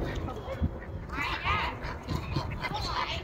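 A flock of geese honks in short nasal calls, mid-distance and moderately loud, mixed with people talking nearby.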